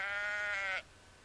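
Sheep in a video game giving a single clear, wavering bleat lasting under a second, close and alone before it cuts off to quiet.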